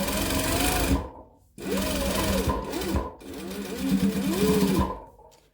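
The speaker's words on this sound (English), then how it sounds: "back stitch to lock it" A sewing machine stitches back and forth to lock the end of a fabric face mask strap, giving three steady whirring bursts with short pauses between them, close and loud.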